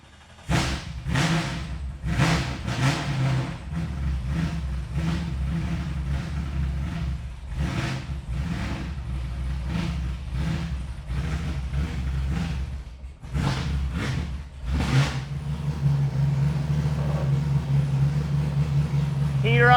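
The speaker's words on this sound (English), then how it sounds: "Last step, fire it up, bleed the cooling system, enjoy the sound of Texas Speed Shop." A Chevrolet C6 Corvette V8, fresh after a direct-fit radiator install, fires up and revs in a series of sharp blips over a rumbling idle, loud and close, while people talk between revs.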